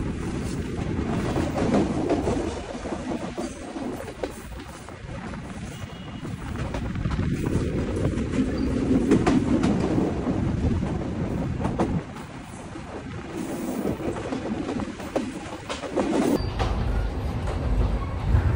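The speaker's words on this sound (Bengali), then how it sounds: "আমাদের ট্রেন এখন পাস করছে ঝিকরগাছা রেলওয়ে স্টেশন" The Rupashi Bangla Express rumbles steadily along the tracks past Jhikargachha station, a heavy continuous roar with faint rhythmic clatter, heard from inside a moving carriage.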